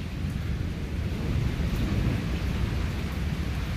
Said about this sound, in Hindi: यहाँ इस जगह पर देखिए कि क्या शिद्दत की बारिश हो रही है